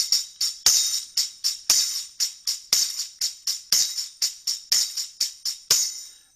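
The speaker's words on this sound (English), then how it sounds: "that's really easy to achieve just simply by waving the tambourine back and forth" Tambourine waved back and forth with accented hits against the palm, giving a driving old rock and roll shuffle of bright jingles, close and without any talking.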